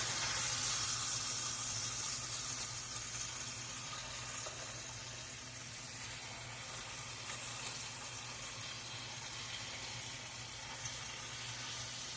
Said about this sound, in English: Time to turn our sausage. Now it takes 12 minutes to do sausage.